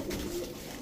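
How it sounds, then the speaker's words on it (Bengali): A female racing pigeon gives a short, low, throaty coo, close by and alone. "এটা একটা মাদি কবুতর"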